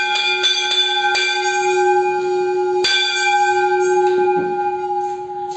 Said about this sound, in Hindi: घंटी बजा के गया कि सभी जान जाए कि खाना खाने का टाइम हो गया